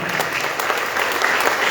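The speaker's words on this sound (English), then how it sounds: "continue to give a round of applause as I read out these names" A crowd at an 85th anniversary gathering of the Saiva Sithantha Sungam gives swamis a sustained round of applause, thick and continuous from start to finish.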